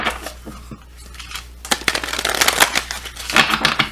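Tarot cards being shuffled during an Aquarius reading, producing a run of soft papery riffles and slaps. The shuffling starts light and grows busier in the second half, with no talking over it.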